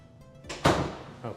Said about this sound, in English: Actually, let me shut this door.